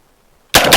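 A Genesis Arms Gen 12 braced pistol fires a single loud shot after a quiet stretch, the sharp report and its echo filling the last third of the moment.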